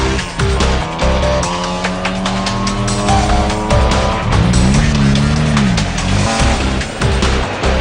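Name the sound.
rally car driving in the Gauteng 250 race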